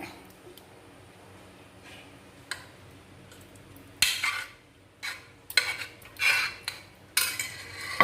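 Sago thinned with milk going into payasam in a pot for Onam, then stirred, giving a quiet opening and then a run of brief clinks and scraping knocks from spoon and pot, each burst short and fairly close.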